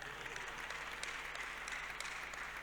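A church congregation applauds during a worship service, a faint, steady wash of distant clapping that runs without a break for a few seconds.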